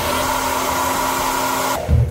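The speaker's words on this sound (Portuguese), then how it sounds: "para depois sim usar o secador" A hair dryer runs steadily with a constant whirring blow while drying a wet TV remote control, then switches off abruptly near the end, followed by a brief low bump.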